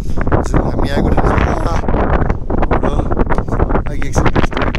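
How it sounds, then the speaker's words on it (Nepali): Strong whirlwind gusts on a steep mountain descent along the Tilicho Lake trek in Nepal, roaring and buffeting the microphone loudly and continuously, with voices partly buried beneath the wind. "यो यस्तो भुमरी आइरहेको छ कि गाह्रो भइरहेको छ"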